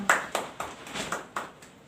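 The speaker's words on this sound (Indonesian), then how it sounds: "Tepuk tangan buat kita semua" A group at a youth organisation training session claps in a steady rhythm, about seven sharp, evenly spaced claps over two seconds. They sound moderately close in an indoor room, with no talk over them.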